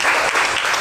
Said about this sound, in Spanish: Un fuerte aplauso para ustedes mismos.